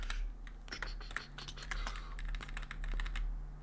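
Computer keyboard typing in quick, irregular bursts of close clicks and key taps, steady throughout against a low background hum.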